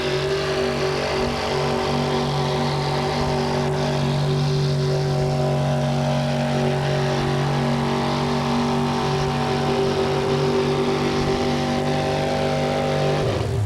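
A carbureted pulling truck, the Stomper, roars through a full pull at a 1987 USHRA truck pulling event in Buffalo, NY; a loud sustained engine drone holds steady pitch throughout with no speech.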